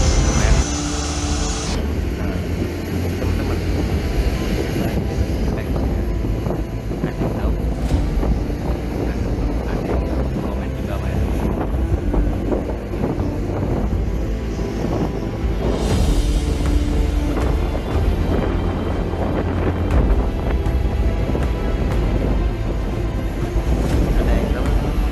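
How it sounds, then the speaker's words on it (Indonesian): A private jet takes off at an airport, its loud, steady engine roar continuing without a break for about twenty-five seconds. "Viral di media sosial saat sebuah jet pribadi sedang landas di sebuah bandara"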